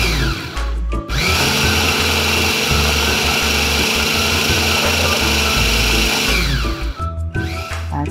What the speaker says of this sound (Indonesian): Mungkin kita blender aja.